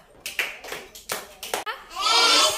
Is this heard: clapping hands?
yes